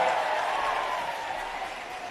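A crowd at a Bahujan Samaj Party rally applauds Mayawati's arrival, a broad, steady wash of clapping that stays even and slowly eases, with no talk over it.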